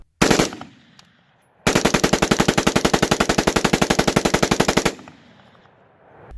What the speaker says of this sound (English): And here it is again, with the currently fully legal bump stock installed on the AR-15.